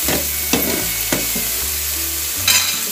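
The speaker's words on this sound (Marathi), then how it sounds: "हे आपण सगळं एकत्रच टाकलं आणि त्यात आपण चांगला परतून घेतलं." Chopped onions and tomatoes sautéing together in a pan, a steady sizzle broken by a few sharp scraping stirs of a spoon against the metal, close up with no voices.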